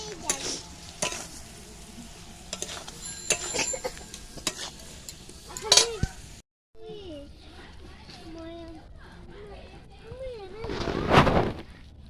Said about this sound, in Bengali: এরপর আমি ভেজে রাখা আলু আর পটল দিয়ে দেব। এটাকে ভালো করে একটু কষিয়ে নেব।